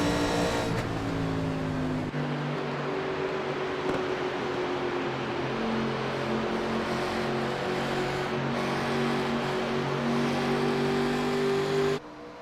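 A race car engine drones at steady high revs as it moves past another car on an oval track, a continuous loud whine with sustained engine harmonics and no talk over it, cutting off abruptly near the end.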